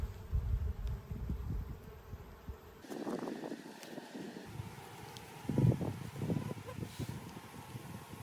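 Honey bees buzz at a hive being inspected before winter, a faint, close droning hum with passing louder bees and light rustling around the frames.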